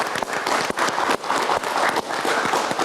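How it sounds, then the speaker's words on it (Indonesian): A studio audience at a televised political debate breaks into loud, dense applause: continuous rapid clapping from many hands that stays strong and full throughout. "kita berikan tepuk tangan"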